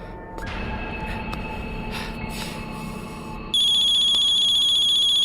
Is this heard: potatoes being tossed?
no